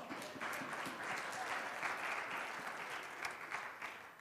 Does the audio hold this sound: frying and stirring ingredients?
no